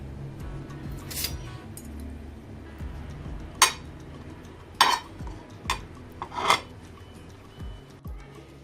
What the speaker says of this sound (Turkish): Kaşık koyalım yanına.